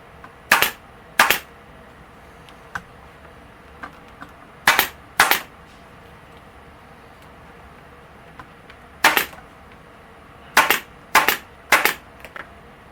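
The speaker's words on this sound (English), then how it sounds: "just pull them down here and staple them down" Staple gun fastening upholstery flaps on a Jaguar door panel, about nine loud, sharp snaps heard singly and in quick pairs or triples, close up, separated by quiet pauses.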